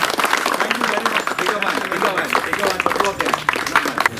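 An audience at a public grievance meeting about irregular water supply in Aldona, Goa, claps in a steady, dense patter of applause, mixed with voices talking over it.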